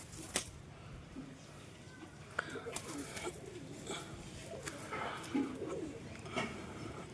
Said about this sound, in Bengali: এই হচ্ছে এই দুটো কবুতর দুটোই মাদি